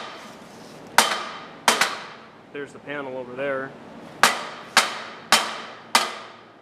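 Sharp metallic hammer strikes ring out one by one at an uneven pace while working on a Yamaha G1 golf cart, with a short burst of talking in the middle.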